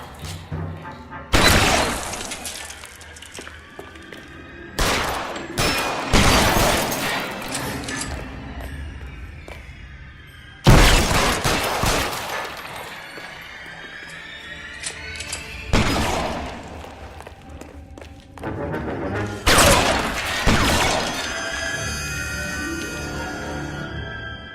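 Loud bursts of gunfire, some in rapid clusters and others single cracks, come from an L.A. Noire shootout, with crashes and smashing debris between the shots and a voice briefly heard.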